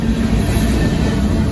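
A northbound Union Pacific mixed freight train with a mid-train DPU passes close by at a level crossing, producing a loud, steady rumble and rail clatter that fills the whole stretch without pause.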